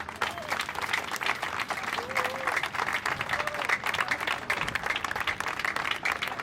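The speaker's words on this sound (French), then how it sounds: "Pour applaudir l'artiste qui s'en va, pour dire bravo l'artiste." Sustained applause from a crowd at a comedian's funeral, dense steady clapping throughout with a few voices faintly audible underneath.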